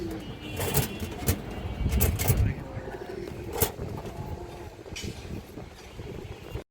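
A female green-necked pigeon coos in low, soft repeated notes, loudest in a cluster early on, amid steady background noise.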